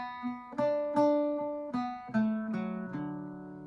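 Irish bouzouki plucking the fourth line of the jig The Butterfly, a quick run of bright picked notes in groups of three, close and alone, with ringing drone strings sustaining underneath.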